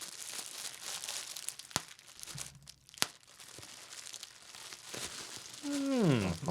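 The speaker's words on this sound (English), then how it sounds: "So we've got some bubble wrap. Do a bit of rustling as well." Bubble wrap being handled and rustled up close: soft crinkling and crackling with a couple of sharp pops, fairly quiet throughout, with a brief rising whine near the end.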